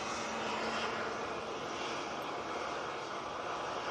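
A jet airliner at an airport, heard as a broad, steady roar of engine noise that holds level and fairly distant, with no voices.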